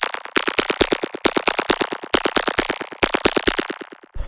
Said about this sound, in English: And then we have this noise zap,